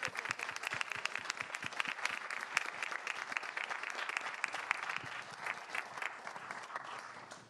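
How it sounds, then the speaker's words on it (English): An audience at a League of Women Voters forum in Seattle applauds the mayoral candidates, with dense, steady clapping from many hands that stays loud and even throughout before tapering slightly at the end. "big round of applause to all the candidates in the Seattle mayor's race"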